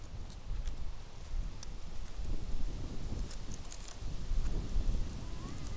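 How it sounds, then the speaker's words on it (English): Low, rumbling wind buffets the microphone in uneven gusts, with faint rustling and no voices. "It's a windy day out."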